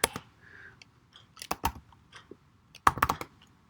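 Several short bursts of keystrokes on a computer keyboard, entering a Playwright test command, come in quick clusters separated by quiet gaps, fairly close and crisp.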